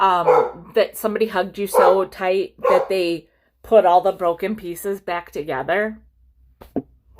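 A pet dog, a female, barks inside a house, apparently at someone passing outside. A few short barks come late and fairly faint, following steady talking from a person nearby.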